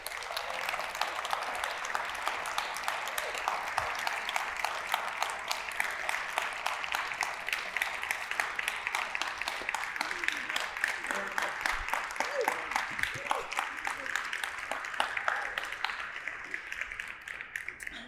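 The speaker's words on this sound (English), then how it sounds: "All the round of applause, endless rounds of applause." A storytelling audience claps and applauds in a steady, sustained wash of many hands, moderately distant and even throughout, with no clear pauses.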